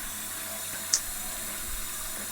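Water running into a kitchen sink with a leaking P-trap drain under repair, a steady faint hiss of flowing water with a single brief splash or clink.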